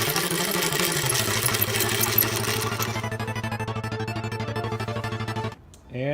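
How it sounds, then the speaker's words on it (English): A hand-turned grain mill grinds Cherokee white flour corn on a second pass, giving a steady, loud rhythmic grinding drone with a regular cranking pulse that stops abruptly near the end. "I've started the second pass of the Cherokee white flour and it's still remarkably easy to grind"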